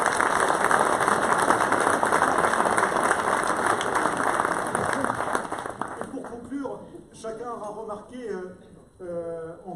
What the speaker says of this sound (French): je voudrais que vous les applaudissiez déjà